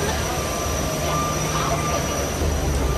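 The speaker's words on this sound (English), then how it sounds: "That's our plane." A Fiji Airways airplane sits at an open-air jet bridge, producing a steady, loud jet engine roar and hum that holds evenly throughout with no voices.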